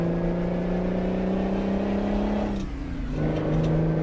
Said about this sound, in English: This truck is a little easier to float gears in.